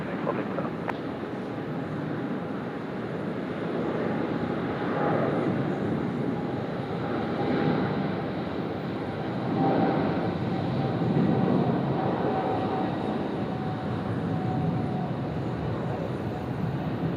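An airplane lands on runway 16 right at Sydney Airport, its engines making a steady, broad roar that swells and fades gently at a distance for the whole stretch, with no talk.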